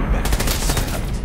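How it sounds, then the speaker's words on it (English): Rapid assault rifle fire from a Batman: Arkham Origins multiplayer match, a dense continuous burst of loud crackling shots with no pause. "I can assure you, it's an assault rifle."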